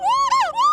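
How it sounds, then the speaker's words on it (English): An agile gibbon gives a single loud, pure, rising and falling whooping call that swoops up in pitch in two smooth glides within a second, close and clear with no other sounds. "Agile gibbon."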